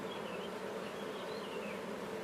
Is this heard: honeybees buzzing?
yes